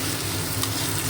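Ground spice paste of ginger and garlic with tomato, onion and cardamom sautéed in oil for an egg curry: a dense, loud, continuous sizzle with stirring, close and with no voices.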